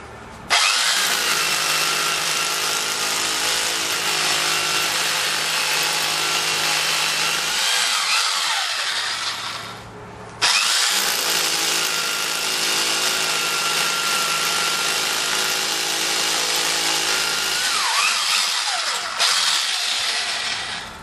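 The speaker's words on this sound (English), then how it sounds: "Then we can finish drilling these last two holes to the full depth." Power drill boring holes into the ground for a Torc ground anchor, two loud sustained bursts of close grinding drilling, each about ten seconds, with a short pause between.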